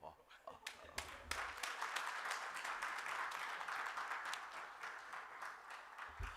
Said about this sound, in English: Let's give him a bigger round of applause.